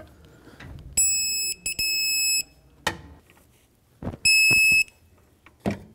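A torque wrench tightens idler pulley bolts to 18 foot-pounds on a 2004-2008 Ford F-150, giving short sharp beeping tones twice, close and loud, between clicks and clanks of tools.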